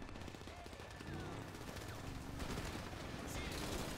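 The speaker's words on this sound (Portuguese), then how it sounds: "Tá atirando em mim, velho!" Rapid bursts of automatic gunfire in the video game GTA 5, set in an abandoned post-apocalyptic Los Santos, crackling steadily at moderate distance.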